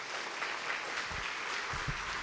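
A church congregation applauds, a faint, continuous wash of clapping with a few louder thumps near the end, heard without talk over it.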